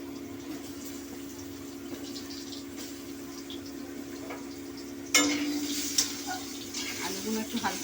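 Potatoes fry in hot oil with panch phoron spices as they are stirred in a pan, a soft steady sizzle with scraping stirs that grow louder toward the end, under a speaking voice.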